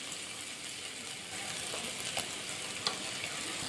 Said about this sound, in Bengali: কাজু বাদামটা বেটে রেখেছিলাম সেটাও দিয়ে দিলাম।